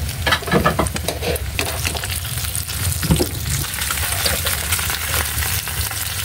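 Chopsuey is stir-fried in a pan, with steady close sizzling and frying and repeated scraping and stirring clatter, alone with no talking.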